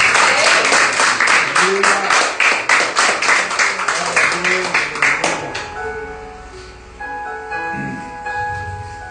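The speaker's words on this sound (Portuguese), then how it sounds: "Levante as mãos e aplaude o nome do Senhor." A church congregation at an evening Lord's Supper service claps in a quick, steady rhythm for several seconds; the clapping then fades out as sustained keyboard tones take over, with a voice speaking faintly along the way.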